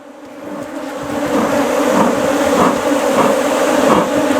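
Dense, steady buzzing of many bees swarming around an open honey hive as it is being closed, loud and close, rising slightly at the start and then holding a continuous drone with no talking.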